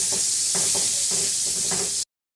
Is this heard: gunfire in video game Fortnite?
no